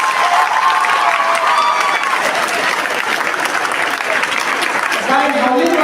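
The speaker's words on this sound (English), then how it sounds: "Very good, big round of applause." A training-session audience gives a big round of applause, a dense, steady wash of clapping that runs loud and unbroken, with voices rising over it near the start and again at the end.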